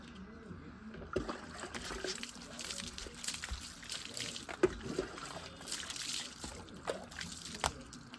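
Water splashes and trickles steadily while a dog is bathed, with irregular sloshing and dribbling bursts at a soft, close level.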